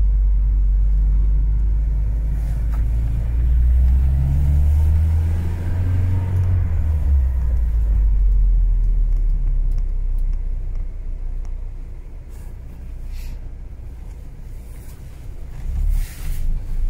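A 1991 Nissan Datsun D21 4x4 crew cab utility drives along with a steady, loud low engine and road rumble that swells and eases, with no talking.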